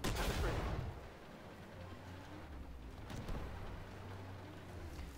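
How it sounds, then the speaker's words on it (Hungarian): A tank is struck by a shell in the armored combat video game Armored Warfare while driving a T-90MS: a sharp, loud impact burst opens, then fades into a low, rumbling engine drone. "itt bekaptunk egy lövést"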